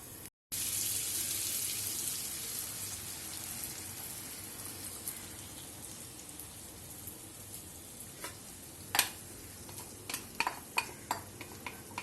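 Jaggery water pours steadily into a pan of red pumpkin curry with a soft rushing hiss, then fades to a quieter simmer with scattered light clicks and taps.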